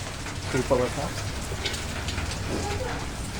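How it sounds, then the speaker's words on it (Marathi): Rain falls outside a village house in a steady, moderate patter, with faint voices briefly rising over it. "बाहेर पाऊस पडतोय"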